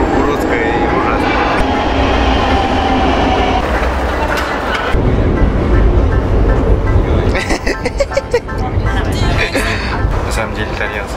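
A metro train in Milan rumbles loudly and continuously underground, with rattling and clattering of the cars and some squealing, while people talk nearby.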